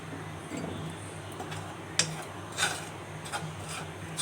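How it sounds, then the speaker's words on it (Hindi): Light scraping and occasional clinks of a spoon stirring semolina as it roasts over low heat in a pan, soft and close, with a few distinct taps against the metal. "जैसे मैं चम्मच घुमा रही हूँ, हम इसको हल्का हल्का सा भून लेंगे"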